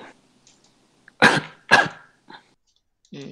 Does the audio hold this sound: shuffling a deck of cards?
no